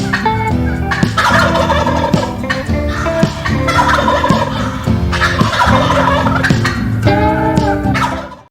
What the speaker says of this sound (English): Gobble, Gobble, Gobble.